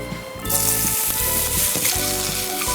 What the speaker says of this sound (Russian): И начинаем обжаривать цукини.